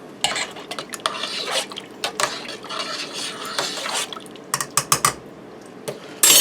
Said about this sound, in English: Let me give that a stir.